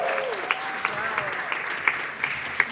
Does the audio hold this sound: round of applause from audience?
yes